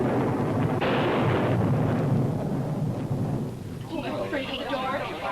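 Thunder from lightning rumbles heavily during a storm, a loud, deep rolling roar that sustains and then breaks into crackling, while a voice speaks over the later part.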